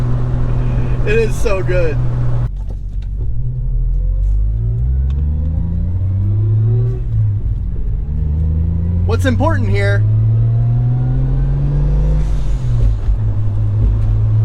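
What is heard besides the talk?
Toyota Supra turbo engine revving with blow-off valve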